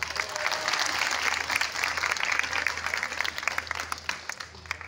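Sustained applause from a ceremony audience welcoming a municipal social development official, steady dense clapping throughout with a low hum beneath and no speech.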